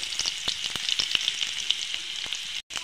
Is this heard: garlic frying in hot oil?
yes